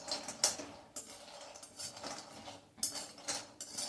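Cashews being stirred and dry-roasted in a pan over medium flame, with light scraping and clinking of the spoon against the pan in irregular strokes, soft and close.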